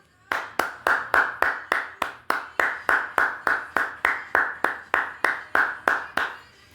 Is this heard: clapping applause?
yes